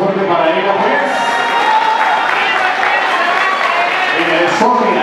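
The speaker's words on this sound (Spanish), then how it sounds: "El aplauso más fuerte para ella, pues." A live concert audience claps and cheers loudly and continuously, a dense crowd roar with shouts, while a person speaks over a microphone.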